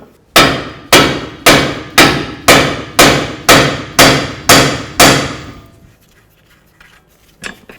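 A hammer strikes the front suspension knuckle of a 2006-12 Ford Fusion during wheel bearing and hub replacement, nine sharp metallic blows in an even rhythm, close and loud, then near silence with a faint knock.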